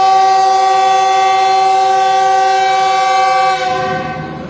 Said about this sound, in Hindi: ट्रेन डिपार्ट कर रही है कसूर जंक्शन रेलवे स्टेशन से